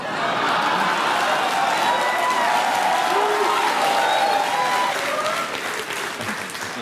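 A huge crowd at a 1939 rally in the Garden applauds and cheers in a loud, dense, unbroken roar that holds steady for the whole stretch and eases only slightly near the end.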